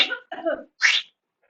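A few short, harsh coughs come in quick succession, followed by silence.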